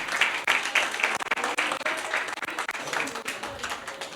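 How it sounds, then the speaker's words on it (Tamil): Audience applause at a Tamil Christian debate event (pattimandram), steady clapping with a few louder bursts, fairly close, with speech mixed in over it. "அவங்களுக்கு ஒரு பலத்த கைதட்டுன்னு கொடுக்குமா?"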